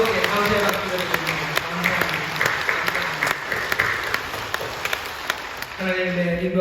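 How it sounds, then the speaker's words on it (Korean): A church congregation claps warmly through a thanksgiving for its 39th anniversary at Incheon Full Gospel Church, steady dense applause filling the room from start to finish, with a few louder individual claps standing out. "감사의 박수를 드립니다."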